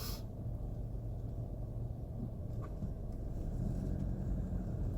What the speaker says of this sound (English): don't let this huge ass truck go